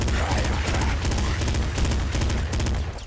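Machine gun fire in the video game Nuclear Throne, dense, rapid, continuous bursts of shots with booming impacts throughout, loud and close.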